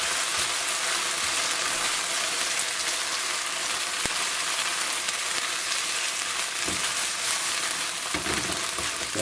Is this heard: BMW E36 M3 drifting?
no